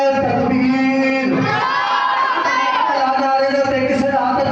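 A large religious gathering answers a preacher's call with a loud, unison shout of the Takbir, sustained voices rising together in one long, powerful chant close to the microphone.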